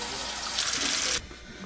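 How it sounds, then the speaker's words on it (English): Tap water runs into a pressure canner for canning beans, a steady broadband rush that grows brighter partway through, then drops off to a quieter trickle near the end. "you want between 2 and 3 inches of water in your pressure canner"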